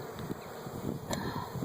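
Bees swarming around a beehive give a steady, close, low buzzing drone that rises and falls slightly as they fly past, with no talking.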